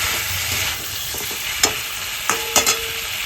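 Lightly fried shingi fish dropped into a pan with potato and plantain, a dense close sizzle with a few sharp utensil clinks and taps.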